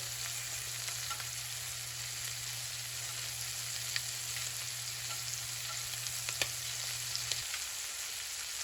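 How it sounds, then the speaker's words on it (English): Shrimp sear in a tablespoon of butter in a pan over medium-high heat, giving a steady, dense sizzle with faint crackles and a low hum that cuts out near the end. "these shrimps have been sauteing in a tablespoon of butter on medium-high heat for 3 minutes"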